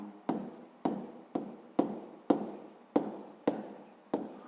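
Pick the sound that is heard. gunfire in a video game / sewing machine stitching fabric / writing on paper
writing on paper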